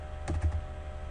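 Brief burst of a few computer keyboard keystrokes, typing the enable command into a Cisco router console, close and fairly quiet with no talk.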